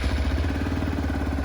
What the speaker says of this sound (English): Now let me fire up the engine